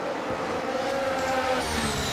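F1 cars racing together in the video game F1 23, with a sustained engine roar throughout and brief scraping contact as two cars shove each other off the track.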